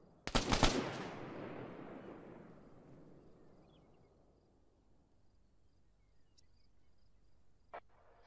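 A rifle salute volley at a memorial parade in Arma 3: one loud, sharp crack of near-simultaneous shots, followed by a long echoing decay that fades over several seconds, with a faint click near the end.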